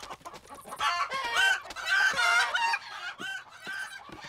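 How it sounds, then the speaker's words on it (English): Cartoon chickens cluck and squawk in a loud, steady run of overlapping calls with no talk over them. "Well, plus the chickens."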